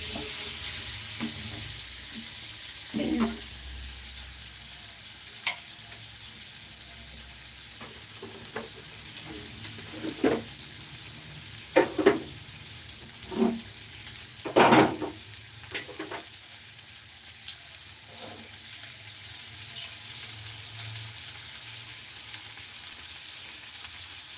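Potato pieces fry in a pan for a shrimp masala curry, giving a soft continuous sizzle with scattered louder scrapes and knocks from stirring, and no talking.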